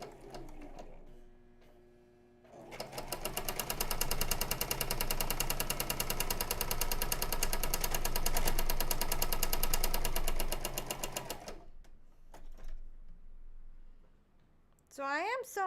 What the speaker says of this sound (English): Well, the needle's going up and down.